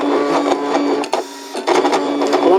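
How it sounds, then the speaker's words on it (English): A Brother ScanNCut cutting machine running through a cut, giving a steady mechanical whir with tonal motor lines and brief pauses as the head shifts, close and fairly loud with no talk. "I'm going to press cut, and I'm going to cut that out now."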